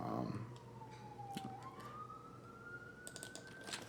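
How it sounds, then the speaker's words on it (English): A distant emergency siren from a busy street wails past, its pitch gliding down and then rising, faint and steady behind a low background hum. "Sorry about that siren."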